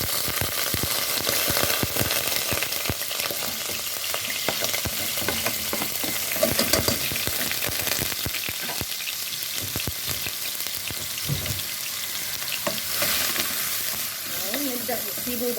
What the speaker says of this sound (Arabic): قطعنا البصل هنبدا ان احنا نحطه في حبه زيت بقى